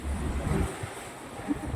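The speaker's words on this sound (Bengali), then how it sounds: "বৃষ্টিও পড়ছে, কিন্তু হাওয়া খুব, এই সাইডটায় খুব হাওয়া।" Strong gusts from Cyclone Remal buffet the microphone beside a bypass road in wind and rain. The low, rumbling roar swells and eases in waves, with no voices.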